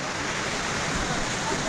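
A mountain stream rushes beside a small waterfall at Jharuwarashi, Santaneshwor: a short, steady, even hiss of flowing water, moderately loud, without pauses or distinct splashes.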